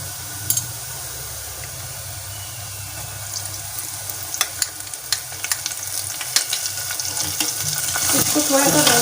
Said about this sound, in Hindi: इसको थोड़ा सा भून लेंगे।